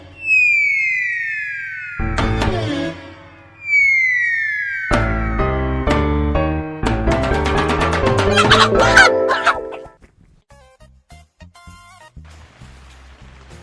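A rooster calls loudly and close by in a series of drawn-out, falling cries. Several calls follow one another over about ten seconds, then only faint scattered sounds remain.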